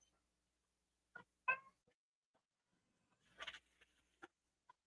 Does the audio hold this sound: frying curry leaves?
no